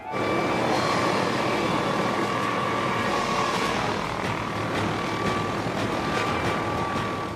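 Steady, loud rotor and engine roar of a nearby aircraft, likely a helicopter, droning continuously with no voices.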